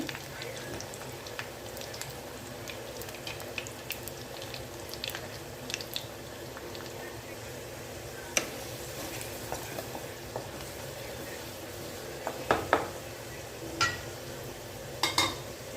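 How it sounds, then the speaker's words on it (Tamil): Garlic sautéing in a pan gives a soft, steady sizzle with occasional stirring scrapes and small clinks, faint and even, a bit louder near the end. "பூண்டு நல்லா வதங்கி வரட்டுங்க."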